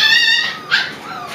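Husky and Klee Kai puppies about five weeks old whimper and yip in high, wavering cries, close and fairly loud, with a short squeal in the middle.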